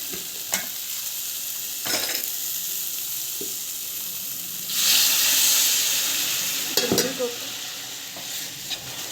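Beetroot rasam ingredients, cumin, a ground spice paste and salt, sautéing in a hot pan, with a steady sizzle, intermittent stirring scrapes and a louder hissing burst midway before settling back.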